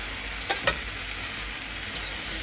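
Ingredients sauté in oil in a pan, making a continuous close hiss with a couple of brief sharper pops or stirring knocks.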